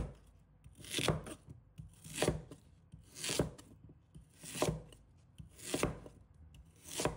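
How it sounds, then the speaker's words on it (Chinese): A knife cuts two chestnut sweet potatoes into chunks on a board, giving about six distinct, evenly spaced chops, each with a short scraping rasp, close and quiet, with no talk. "将其切成滚刀块。"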